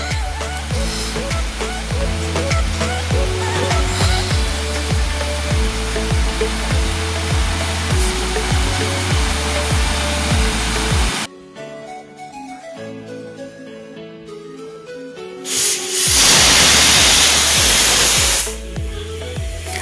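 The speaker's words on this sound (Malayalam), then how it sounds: "അങ്ങനെ ഇതാ നമ്മുടെ കുക്കറിൽ 5 വിസിൽ വന്ന് കഴിഞ്ഞിട്ടുണ്ട്" A pressure cooker on the stove gives off a loud, sustained steam hiss with a rhythmic rattling pulse from the weight. It cuts off abruptly, and after a short lull a strong whistle blast bursts out, with no talking.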